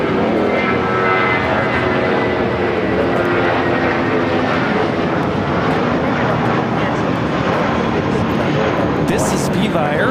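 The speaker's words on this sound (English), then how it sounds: "This is Viva Airbus 513 taking off to Guadalajara on the A320" A Viva Aerobus Airbus A320 takes off at LAX bound for Guadalajara, its engines a loud, steady, broadband roar that fills the whole stretch without a break, while people talk over it.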